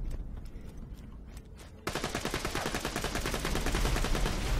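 Rapid automatic gunfire in the video game Borderlands 2: a quieter spaced burst of shots gives way to a dense, continuous stream of loud shots that runs to the end, with no talk over it.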